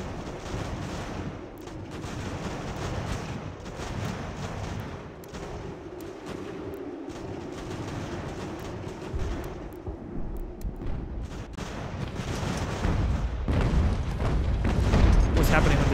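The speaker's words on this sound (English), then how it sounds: "They're gonna demolish us with the canister round." Canister rounds fired by artillery in the strategy game Ultimate General: American Revolution, rumbling as a dense, continuous battlefield roar of booms and volleys that grows louder toward the end.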